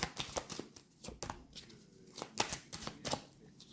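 Tarot cards being shuffled for a reading, a run of quick crisp riffling bursts and soft slaps at close range, with no voices.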